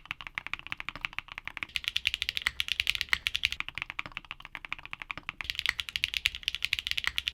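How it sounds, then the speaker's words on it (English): Fast typing on a mechanical keyboard fitted with tactile switches, a dense run of crisp close keystrokes that breaks briefly and resumes, with no talking. "Let me demo two switches that have identical materials on paper, but sound completely different."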